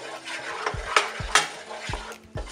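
Butter and flour roux cooking in a pan for mushroom mac and cheese, stirred with a few distinct scrapes and knocks of a utensil against the pan over a soft steady sizzle, close by with no talking.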